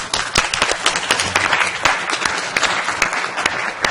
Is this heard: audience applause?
yes